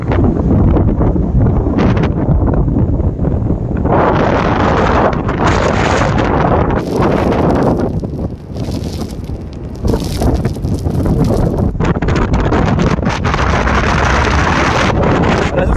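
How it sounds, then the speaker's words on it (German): Strong gusts of wind roar and buffet the microphone on the Atlantic coast, surging and briefly easing before blasting back in, loud and continuous throughout. "Schwierig windig hier."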